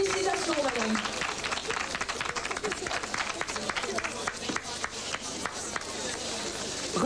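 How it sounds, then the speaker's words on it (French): Audience applause at a cat show award for a Sphynx or Lykoi cat, brisk clapping sustained throughout while an announcer talks over it in French. "Donc vous pouvez l'applaudir très fort, il reçoit un best variété."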